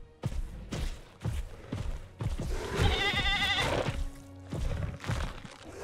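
A goat bleats loudly in a Jurassic World video game as a carnivorous dinosaur seizes it. A wavering cry sits among heavy, rhythmic thuds and thumps of the animal's movement, all near and loud.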